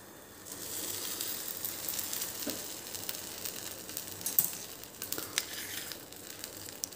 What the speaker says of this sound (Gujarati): હવે બહારથી પણ થોડા ક્રિસ્પી થાય એના માટે એને આપણે થોડા શેકી લઈશું.